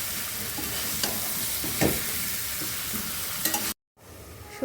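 Chicken frying in mustard oil crackles and sizzles steadily up close while a utensil stirs and scrapes it in the pan at irregular moments. The sound cuts out abruptly for a moment near the end, and no one speaks.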